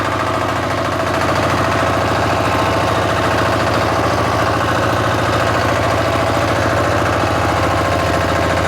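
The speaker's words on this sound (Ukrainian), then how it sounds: "Додаю обертів." A walk-behind tractor's engine runs at raised revs, producing a loud, close, continuous droning chug that holds steady throughout.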